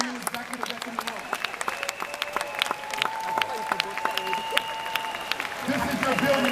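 Applause from an event audience at a 2015 Jeunesse expo in Singapore as new executives are recognized, steady clapping throughout with crowd noise and voices mixed in.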